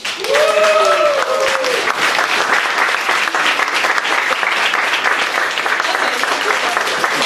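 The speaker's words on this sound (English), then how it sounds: "give a big round of applause to Yew Jin" Loud, sustained applause from an audience welcoming a speaker on stage, dense clapping filling the whole stretch, with a brief tonal whoop or cheer rising early on.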